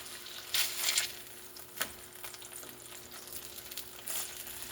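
A smash burger frying on a flat griddle, a quiet hiss with brief louder sizzling bursts and a sharp scrape or tap from a spatula, heard alone up close.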